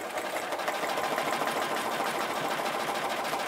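A sewing machine runs steadily for free-motion thread scribbling on fabric, its fast needle chatter forming a continuous, even hum, moderately loud and close with no pauses and no voices.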